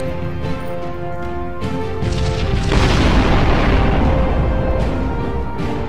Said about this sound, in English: volley from your own pulse lasers